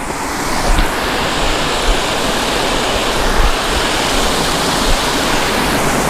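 Loud, steady rush of water pouring from the 2-inch outlet pipe of a modified pump into a koi pond, a continuous broadband roar with no speech over it.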